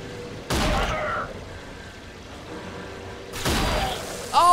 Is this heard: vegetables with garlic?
no